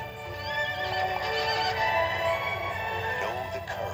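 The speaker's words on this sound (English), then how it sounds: "Beautiful horse." A horse neighs loudly over steady clip-clopping hooves, set against a rich orchestral music bed in a 1994 VHS trailer for Thumbelina.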